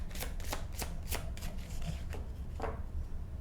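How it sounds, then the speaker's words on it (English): Tarot cards shuffled by hand in a quick series of crisp riffling bursts, close and fairly soft, with no talking. "One more shuffle."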